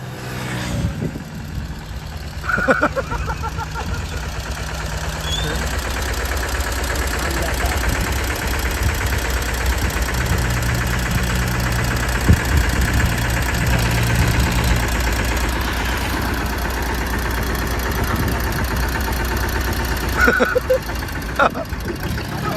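A tractor engine idles on a road, a steady low rumble running throughout, with people talking over it.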